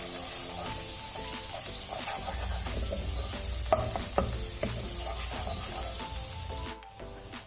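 Onions and garlic paste sizzle steadily in a pan while being stirred, with occasional sharper scrapes and taps over the constant frying hiss, close and without voices.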